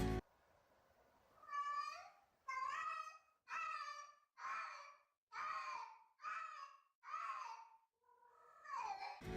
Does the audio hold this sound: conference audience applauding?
no